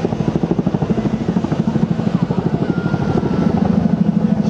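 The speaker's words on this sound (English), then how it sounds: "the aircraft has been pulled up by 45 degrees into the roller coaster" A military aircraft performs a low display routine at a seaside air show in Clacton-on-Sea, Essex, giving a loud, steady rotor-like chopping throb that pulses rhythmically and fills the whole stretch without talk.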